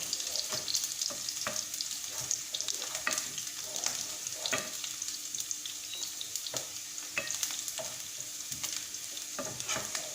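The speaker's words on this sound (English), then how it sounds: "We'll wait for the onions to change to the brown color." Diced onions fry in a pan with a steady, fairly quiet sizzle, punctuated by light scraping clicks of stirring, with no voices.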